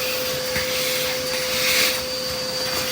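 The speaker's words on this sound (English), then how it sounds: "we're going to get a shop vac and get that out of there" A shop vac runs steadily, a loud whining hiss with a constant tonal hum, sucking debris out of a Jeep JK engine intake opening, the airflow swelling slightly midway as the nozzle moves.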